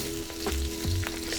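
Cut-up breakfast sausage frying in bacon fat gives a steady close sizzle, with a few scraping stirs and a low hum underneath.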